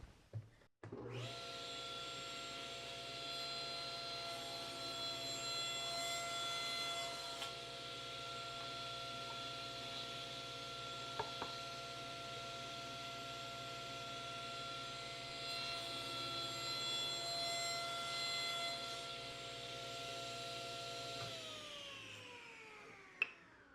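A saw cuts frame molding on a miter sled with a stop block, producing a steady, fairly quiet motor whine that runs for about twenty seconds before winding down, with a brief knock partway through.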